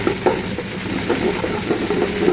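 Onions and flour stirred together in a pan as a roux starts to cook, a continuous close sizzle with spoon scraping and stirring strokes, no talking.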